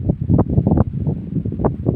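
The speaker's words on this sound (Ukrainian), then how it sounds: "Ну вітер сильний," Strong wind over open fields near an abandoned village buffets the microphone in low, rumbling gusts, with a rustling, blustery roar that rises and falls throughout, whipping up dust.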